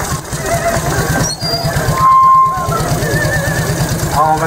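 A vintage motorcycle engine runs at an even, rapid idle with a steady chugging pulse at a classic car elegance show, and voices talk over it throughout.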